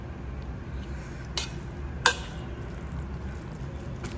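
Lentil filling for bobbatlu being mashed and mixed in AMC cookware gives soft, continuous scraping and stirring, with two sharp metallic clinks of the utensil against the pot.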